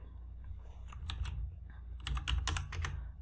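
Commands typed on a Windows 10 computer keyboard, close, crisp key clicks in two short bursts separated by a brief pause, over a faint low hum.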